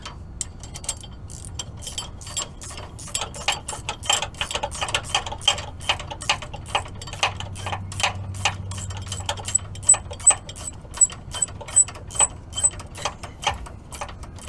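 A ratchet readjusting the e-brake cable on a 2004–2012 Chevrolet Colorado or GMC Canyon truck, a rapid train of quiet, crisp clicks in steady bursts, close by with faint background hum.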